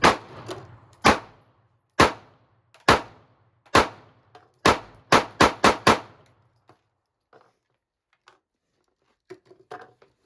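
A Springfield Armory Hellcat pistol fires about ten sharp, loud shots at an outdoor range, spaced irregularly, then a quick string of five, followed by faint clicks and handling sounds.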